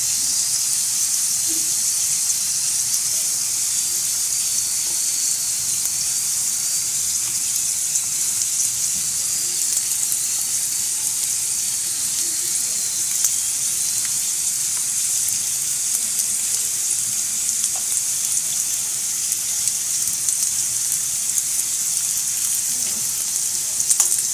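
Potatoes with sucuk sausage laid on top sizzle steadily in a frying pan, a continuous hissing fry that stays even and fairly close throughout.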